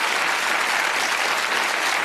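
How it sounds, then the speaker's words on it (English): Studio audience applause on a British darts game show, a dense continuous burst of clapping heard alone and fairly close for a couple of seconds. "Give them a round of applause."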